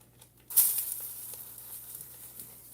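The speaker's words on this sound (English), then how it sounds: "Let me stir my pasta." Whole wheat pasta being stirred in a cooking pot, a sudden burst of hissing bubbling that starts partway in and settles into a steady simmering sizzle, close and moderately loud with no talking.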